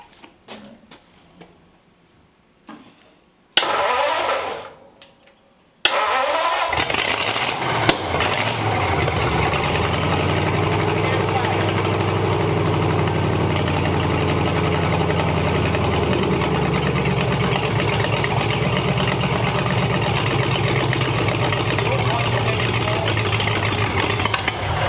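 A 1940 Ford convertible engine cranks briefly, then catches and settles into a steady, loud, slightly uneven idle that runs on for nearly twenty seconds, with people talking nearby.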